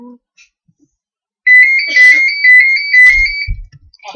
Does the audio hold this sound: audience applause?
no